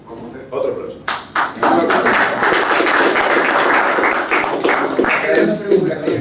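A lecture audience applauds after a philosophy book talk, starting with a few scattered claps that quickly swell into dense, loud, sustained clapping from many people, which eases slightly near the end.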